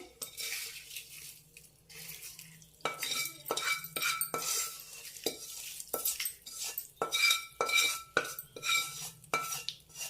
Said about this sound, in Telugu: తాలింపు తీసుకొచ్చి దీంట్లో వేసుకున్నాం